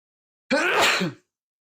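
A single sharp sneeze bursts out close by, short and loud, with silence before and after.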